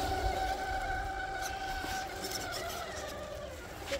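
Redcat Ascent Fusion RC crawler with new beadlocks driving over rough ground at Crawler County, a faint whining motor with shifting electric tones under soft outdoor ambience.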